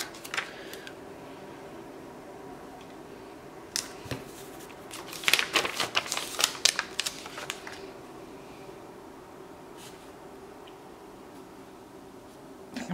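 Old stickers are peeled off a paper planner with dry crinkling and short tearing rasps, clustered into a busy stretch in the middle and sparse at the edges, heard close and alone.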